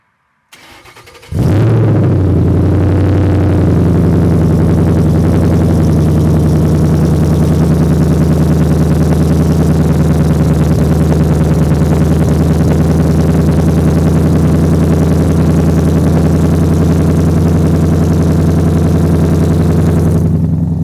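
A car engine cranks and catches on a cold start, then settles into a loud, steady, deep idle that drones on without a break.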